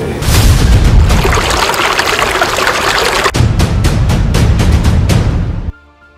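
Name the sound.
dam water gushing through canal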